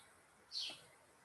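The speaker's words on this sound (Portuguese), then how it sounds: "Tem um pardal tão perto aqui" A sparrow chirps close by, one short bright call in a quiet indoor setting during an online lesson, with no voices over it.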